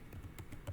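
Brief typing on a computer keyboard: a few quick, light key taps at an uneven rhythm, faint and close, with no voices.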